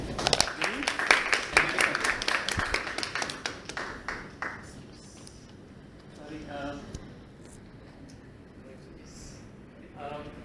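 An audience claps in applause to welcome a returning speaker at a Toastmasters club meeting in Bangalore, loud dense claps fading over several seconds, followed by quieter room sounds and faint voices.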